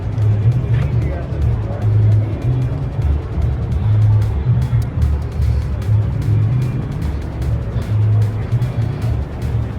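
Car engine rumbles and passes close by at a Southern California car meet, the vehicle one famed from Initial D, with a loud, wavering drone and people talking over it.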